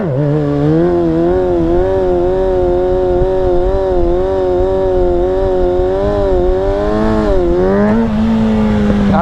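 Kawasaki 636 stunt motorcycle held in second gear, its engine a loud close droning note that wavers steadily in pitch, dips briefly, then settles at a lower rev near the end, no voices.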